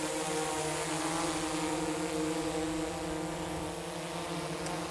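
Drone spinning orange Master Airscrew propellers, a steady close tonal buzz with layered harmonic whine and airy hiss, holding even throughout.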